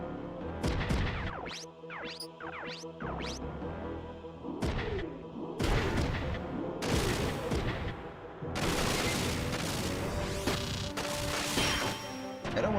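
Shotgun blasts and combat effects in the video game Front Mission 3, a loud run of sharp crashing bursts and impacts coming one after another with brief gaps, alone without talk.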